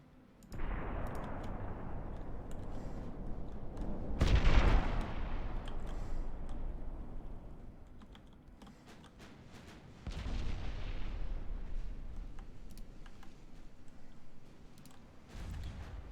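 Warship naval guns firing in the game Ultimate Admiral: Dreadnoughts, heavy booming salvos with a big blast near four seconds and another near ten, each followed by a long rumbling decay, no voices.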